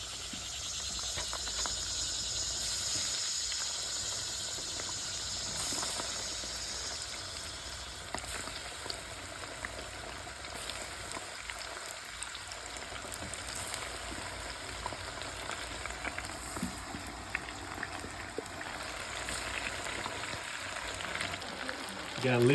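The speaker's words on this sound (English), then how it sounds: "You gotta listen to the sizzle." Bass frying in oil in a Southern-style cook, a steady, bright hissing sizzle running continuously with crackles throughout, with people talking over it.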